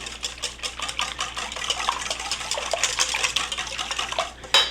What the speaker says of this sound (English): I'm going to add in the milk. There we go. Just beat that in.